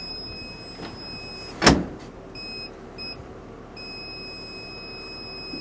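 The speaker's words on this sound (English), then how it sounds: "Was it the low voltage alarm?" A low voltage alarm on a tool truck beeps in steady, repeated high-pitched tones, broken by a single sharp thump partway through, with faint background hum.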